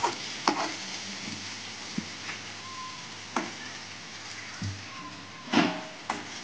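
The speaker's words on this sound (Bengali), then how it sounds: "ভালো করে নাড়চাড় করে নিতে হবে।" Spices, including a little ground cumin, frying in a pan are stirred, bringing a soft, faint sizzle broken by scattered scrapes and clinks of a utensil against the pan.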